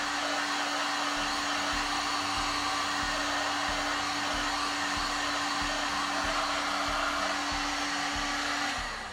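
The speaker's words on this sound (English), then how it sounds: "my heat gun now, I'm just going to warm this up a little" A heat gun blows steadily on a piece of plastic, a continuous airy roar with a low electric hum that holds at even loudness for about nine seconds before cutting off, with no talking.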